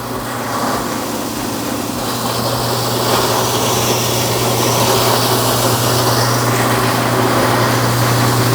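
A BDG Compact 1 mini granulator runs steadily and loudly, a constant motor drone with a strong low hum and broadband whirring that swells slightly midway, with no talking over it.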